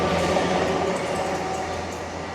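Steady rumble and rattle inside a short two-carriage passenger train in the Cotswolds, continuous and fairly loud, with faint clatter of wheels on track.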